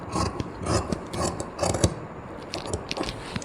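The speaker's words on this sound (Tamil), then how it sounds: "இதை வந்து நாம் இப்படியே கட் பண்ணி எடுத்துடலாம்." Scissors cut through embroidered blouse fabric in repeated crisp snipping and rasping strokes. The strokes are close and uneven in rhythm, with no talking.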